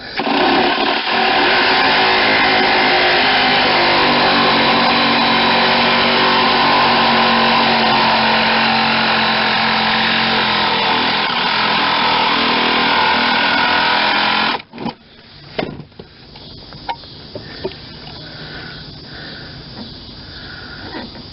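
A power saw fitted with a brand-new blade cuts through floor pan sheet metal on a 1992 Geo Metro convertible, a loud continuous buzzing whine that stops abruptly after about fourteen seconds, followed by scattered clanks.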